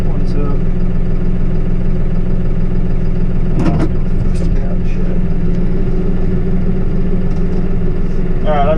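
A Farmall 55 tractor engine runs loud and close, a steady low rumble that holds constant throughout, with a few brief clanks over it and someone speaking over the noise.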